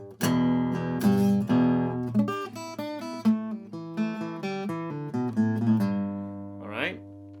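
An acoustic guitar plays a quick blues lick in the low E position, with plucked notes and bent strings ringing out clearly and alone, close and moderately loud, ending on a sustained note with a brief slide.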